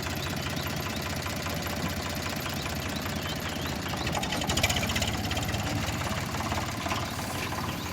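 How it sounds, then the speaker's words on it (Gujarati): A tractor engine runs steadily in a lemon orchard in Gujarat, a Power Trac or Eicher, with a continuous low chugging knock that swells slightly midway and no talking. "ટ્રેક્ટર ઉપડી ગયું છે"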